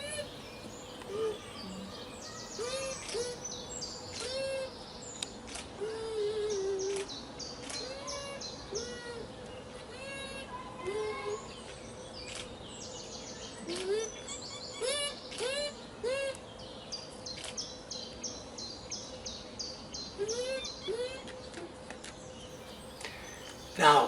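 Bush dogs in Suriname, pack animals rarely seen, give high, bird-like chirping calls in repeated short bursts over a soft forest background.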